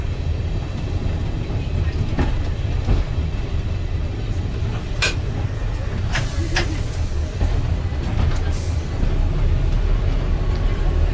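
A diesel railcar on the West Somerset Railway, heading from Blue Anchor to Minehead, rumbles steadily from inside the cab, a continuous low drone with occasional sharp clanks and squeals over the top.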